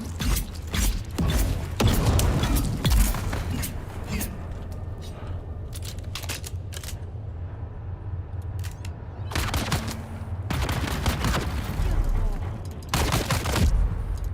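Grenade blast and gunfire in Dune Awakening, loud bursts of rapid shots and booms in clusters with quieter mechanical gaps between, close and harsh against a low background rumble.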